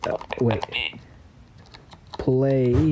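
Quick, light keypresses on a BrailleNote Empower braille keyboard, tapped between bursts of a synthetic speaking voice, close and clear.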